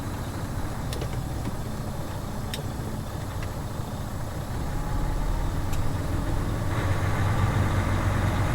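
A truck cruises down a highway, its steady low engine drone and road rumble filling the cab throughout, swelling slightly louder in the second half with a few faint rattles.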